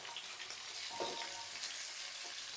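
Carrot, radish, sweet potato and drumstick pieces frying in oil for Bengali shukto, a steady hissing sizzle with a few soft stirring scrapes, close and without talk.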